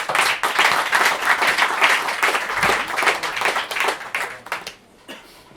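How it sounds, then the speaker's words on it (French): A lecture audience applauds the speaker, dense continuous clapping from many hands that holds strong for several seconds, then thins and trails off toward the end. "je vous remercie de l'applaudir pour l'encourager"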